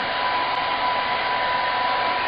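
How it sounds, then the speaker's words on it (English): A warm blow dryer runs steadily over a plastic shower cap covering freshly applied SPLAT Aqua Rush hair dye, a constant close whirring rush of air with a faint high whine, loud and unbroken throughout. "with a warm blow dryer."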